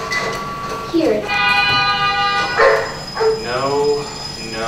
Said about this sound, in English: Hear a dog.